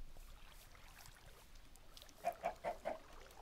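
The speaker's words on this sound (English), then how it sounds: "How are my chickens doing?" Chickens in the Minecraft Resonant Rise modpack give a run of four quick, evenly spaced clucks near the end, over faint game ambience with no speech.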